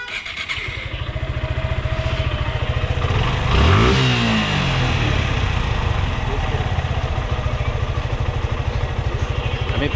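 A fuel-injected Suzuki Gixxer motorcycle engine idles loudly and steadily nearby, then is revved once, its pitch sweeping up and falling back before it settles into the idle again.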